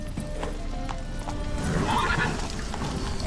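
Roach the horse galloping in The Witcher 3, rapid hoof clip-clops under a continuous game soundscape, with a brief neigh-like swell near the end.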